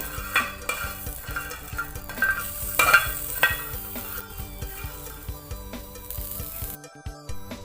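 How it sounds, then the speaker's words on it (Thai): Dried chilies dry-roasted and stirred in a pan, giving a steady scraping, rattling stir with light sizzle and clinks of utensil on metal, close and continuous. "หลังจาก ย่างปลาดุกเสร็จเชฟหนุ่มก็จะมาคั่วพริก"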